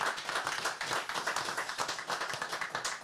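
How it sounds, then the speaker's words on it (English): A small audience at a reloading info night in a projectile warehouse gives a steady round of applause for the presenters, dense clapping close by that holds throughout. "Let's give a round of applause to these dudes for coming along and making it happen."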